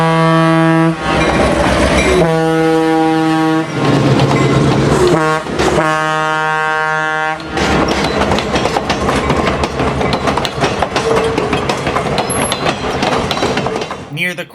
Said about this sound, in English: Golden Gate Train Number 63 is seen racing west